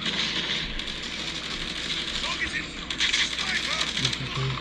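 Gunfire crackles through a Call of Duty Mobile match in scattered bursts of sharp shots over steady background game noise.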